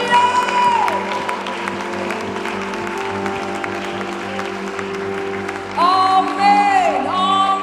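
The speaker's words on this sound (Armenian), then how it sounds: "Աստծո ժողովուրդ բարձրացրու քո ծափը, քո երկրպագությունը, մատուցի Տիրոջը," A church congregation claps along during a worship song, steady applause under sustained music and singing, swelling slightly louder near the end.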